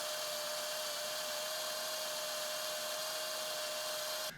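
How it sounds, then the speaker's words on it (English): A power drill with a 1/8 drill bit bores into a campervan bed bracket in a steady, continuous high whine that holds for several seconds before cutting off abruptly. "I'm going to drill these two first and get this side bolted up"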